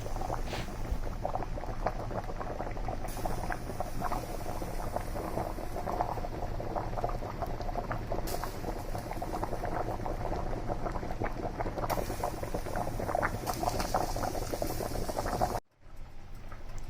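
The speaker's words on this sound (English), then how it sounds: "We're just going to start with boiling the water, and I also do add salt so the spaghetti doesn't stick." Salted water boiling in a pot for spaghetti, a steady close rolling bubble and hiss that continues unbroken for the whole stretch, with a brief cut near the end and no talking.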